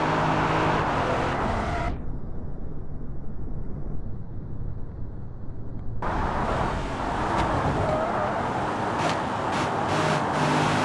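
A Dodge Durango rumbles in a simulated tornado test, engine and wind roar loud and constant, briefly muffled to a low drone for a few seconds before the full broadband roar returns.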